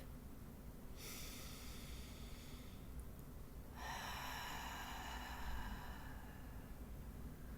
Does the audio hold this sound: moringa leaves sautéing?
no